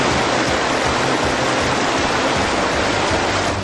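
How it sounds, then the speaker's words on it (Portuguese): Heavy rainwater pours over the Saev reservoir dam in Votuporanga like a waterfall after a damaging storm, a loud, steady, unbroken roar of rushing water throughout with no other sounds. "Feito uma cascata."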